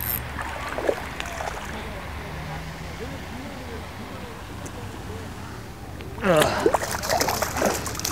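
Water splashes and sloshes around a fishing line while float fishing for rainbow trout, soft scattered splashes through the middle, then a louder burst of thrashing splashes near the end, with faint voices at times.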